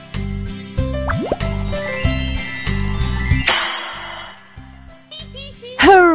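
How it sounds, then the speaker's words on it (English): Cymbal crash from a children's animated show: a loud bright wash of shimmer that rings out briefly, preceded by plinky synthesized music with a bouncy bass pulse and a quick rising slide. "You found the sound that cymbals make."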